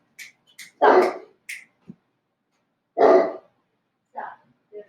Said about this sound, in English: Just had to shut the windows so he doesn't bark at the tree.